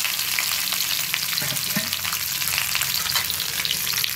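Curry leaves and egg fry in hot oil in a pan, giving a steady, dense sizzle and crackle that holds the whole time, with a couple of faint stirring scrapes partway through and no voices.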